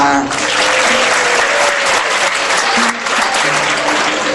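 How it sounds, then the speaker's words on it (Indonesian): An audience at a religious talk applauds, a dense, steady clapping that fills the whole stretch at strong, even loudness, with faint voices underneath. "Tepuk tangan nggak apa-apa."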